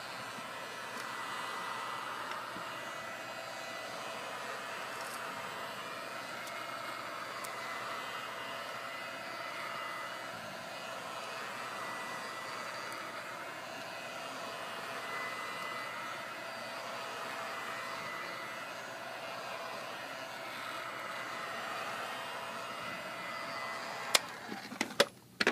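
A heat gun blows steadily on the glass of an iPad 3 during a screen repair, a constant airy whoosh that runs unbroken and fairly quiet, with a few clicks and taps at the end.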